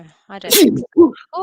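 A single sharp sneeze bursts out mid-conversation during football chat, loud and close, with speech just before and after it.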